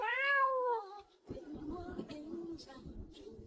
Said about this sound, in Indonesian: Membawa anak kucing penyakitan yang hampir mati.